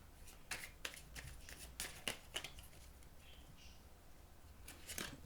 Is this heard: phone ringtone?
no